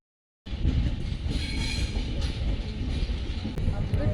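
Train rumbling at a railway station in the evening, a steady broadband roar with low rail noise and faint wheel hiss that holds throughout after a sudden start.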